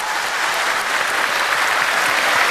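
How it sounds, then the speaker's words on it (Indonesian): Dense, loud studio audience applause on an Indonesian anti-corruption talk show, a continuous wash of many hands clapping at once, steady throughout with no talk. "Tepuk tangan dong, tepuk tangan"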